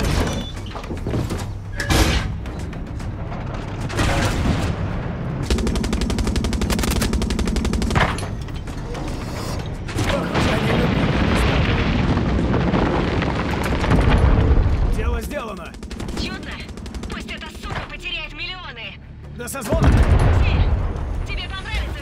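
Gunfire and tank machinery in the video game Far Cry 6: bursts of machine-gun fire, heavy booms and clanking mechanical slides, loud and dense, with a voice talking over parts of it.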